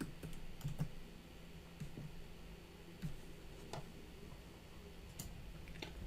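Code being typed on a computer keyboard, scattered soft key clicks and taps at an irregular pace, close but quiet, with no talking.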